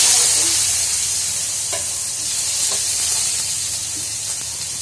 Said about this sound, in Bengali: এই যে আলু ভাজা কেটে রেখেছিলাম, এই যে দিদি আস্তে করে ছেড়ে দিচ্ছি